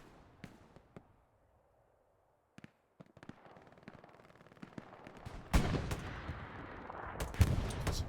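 Artillery explosions in the World War II game Hell Let Loose: scattered distant booms and sharp reports at first, then a loud sustained barrage of heavy blasts and rumbling impacts that builds and stays dense, with no talk.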